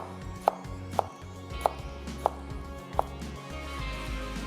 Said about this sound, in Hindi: टमाटरों को स्लाइस कर लेना है